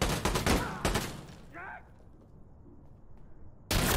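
Video game gunfire: a rapid cluster of loud shots at the start, a brief quieter gap with a faint tonal effect, then another loud burst at the end.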